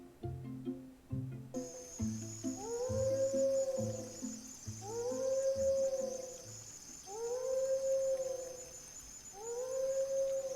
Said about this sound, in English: this is just one of the filter effects that we can add for a wolf howl